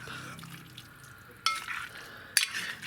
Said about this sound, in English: I'm gonna sit there and stir this all up.